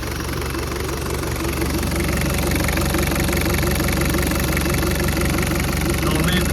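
A Toyota 1KZ-TE diesel engine runs after reassembly, settling into a steady idle with a constant low drone and an even, rapid clatter throughout.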